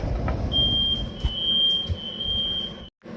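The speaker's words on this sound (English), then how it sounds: "my smoke alarm went off" A kitchen smoke alarm's steady high-pitched electronic tone rings continuously for a couple of seconds over rumbling background noise while cooking on the stove, then cuts off abruptly.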